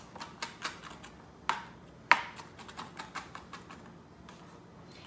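A kitchen knife chops food for spicy sausage pasta on a cutting board, a string of sharp, irregular taps, some louder, fairly close and with no talking.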